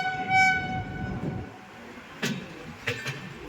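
A train at Moradabad Junction railway station sounds a long, loud, harmonic horn over low rumbling, followed by sharp metallic clanks from the carriages.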